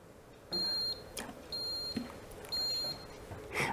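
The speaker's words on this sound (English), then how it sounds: "you heard those beeps and the screen displayed hot" An Instant Pot Rio electric pressure cooker gives three evenly spaced electronic beeps at the end of preheating, clear and close in a quiet kitchen.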